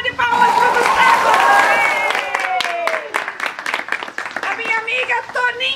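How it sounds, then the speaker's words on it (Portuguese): A small audience applauds Gustavo Lima at a spring party in a care home for the elderly. The clapping is brief and uneven and fades into scattered claps, with talk and music-like tones alongside. "uma salva de palmas para o Gustavo!"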